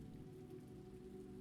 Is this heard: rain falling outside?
yes